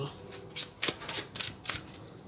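Tarot cards being shuffled up close, a series of quick papery riffles and flicks in uneven bursts, with no talking over them.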